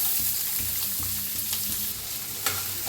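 Chopped onion frying in hot oil with mustard seeds, cumin and asafoetida makes a fairly quiet, even sizzle close by, with a few light stirring knocks and no speech.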